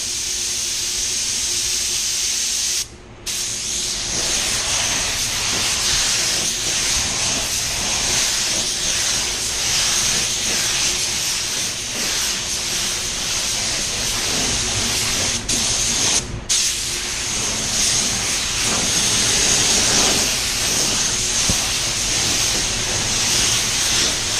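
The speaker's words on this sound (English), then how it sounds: "I'm going to spray the sealer" A spray gun spraying sealer hisses steadily at close range in long continuous bursts, with a couple of brief pauses between passes.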